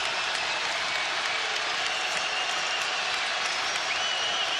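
A packed basketball arena at UNLV erupts in sustained clapping and cheering as fans stand, a thick, constant roar of applause that holds steady throughout.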